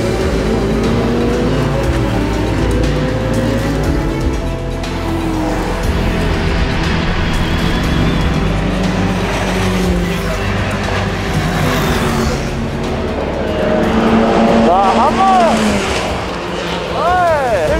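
At a racetrack, race car engines drone and pass by, loud and continuous with a rising whine near the end, while people talk over the noise.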